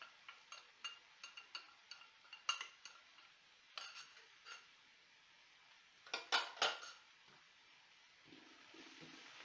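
A spoon scrapes and clinks against a pot as turmeric is stirred in for Sri Lankan yellow rice with eggs, giving a run of light metallic taps, a few louder knocks, and quiet pauses between.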